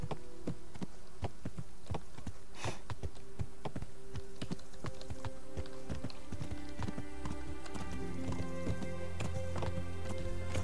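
Rapid clip-clopping horse hooves from a video game in a steady rhythm, close and continuous, with a low hum and faint buzzing underneath.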